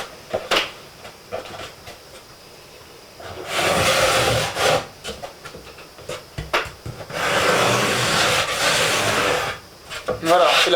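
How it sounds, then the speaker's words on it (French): Hand saw cutting through a wooden board during board making, two long loud bursts of rasping strokes separated by quieter handling and knocks, close up. "une fois que la forme extérieure est définie, on la découpe avec une scie"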